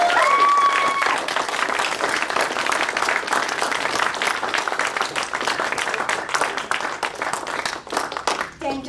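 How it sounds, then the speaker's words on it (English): An audience at a Quincy College scholarly conversation event applauds its speakers and performers, steady sustained clapping close and loud, tapering off just before the end. "please extend one more round of applause for all of our speakers and performers"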